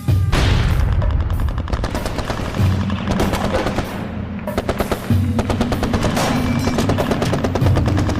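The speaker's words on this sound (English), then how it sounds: "As the first shots ring out, Che is face to face with the enemy." Dense gunfire crackles in a rebel ambush on an army patrol, rapid bursts and single shots overlapping loudly with booming reports throughout.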